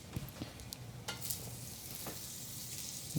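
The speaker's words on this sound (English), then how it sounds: "I want it to sizzle and melt quite a bit so that it actually starts to brown" Butter sizzling and melting in a hot pan on a high burner, a steady close crackling hiss with a few small pops, no talk.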